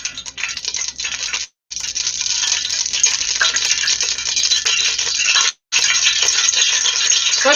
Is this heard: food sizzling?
yes